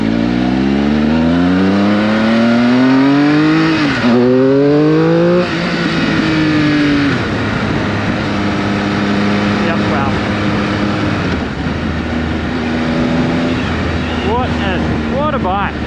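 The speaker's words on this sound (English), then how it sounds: "What a bike, what an engine." A 2019 Triumph Speed Triple RS motorcycle engine revs hard through rising gear pulls, each climb cut by a shift, then settles into a loud steady drone with throttle blips.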